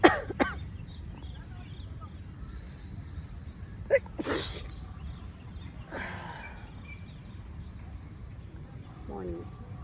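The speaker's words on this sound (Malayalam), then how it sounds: "തുമ്മുന്ന" One sharp sneeze bursts out in a quiet indoor morning setting. Smaller throat and breath noises come before and after it against a low background hum.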